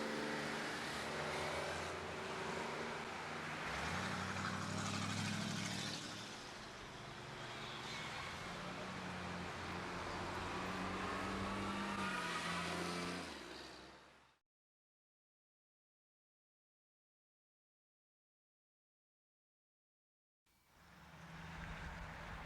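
A Toronto city bus, number 9383 with an open panel below the driver's window, passes by the former Lansdowne Garage, its engine and road noise loud and steady before cutting off abruptly.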